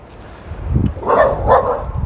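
A dog barks two or three times in quick succession, fairly close and moderately loud, over a faint background hum.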